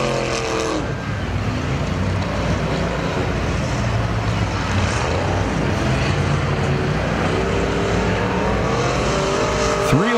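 Race cars in a figure 8 trailer race at Perris Auto Speedway give a loud, continuous roar of several engines close by, revving steadily throughout.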